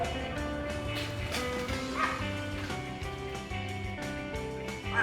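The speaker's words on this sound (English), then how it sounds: "Fucking dogs." Dogs bark and yip in quick bursts, fairly faint and set back behind a layer of steady tonal background sound.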